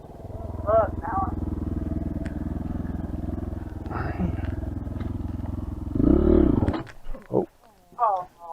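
A motorcycle engine idles with a steady, close, rumbling putter, revs briefly, then cuts out and goes quiet, with voices talking at several points.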